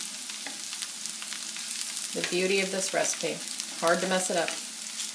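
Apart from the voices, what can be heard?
potatoes frying in a pan for diner-style home fries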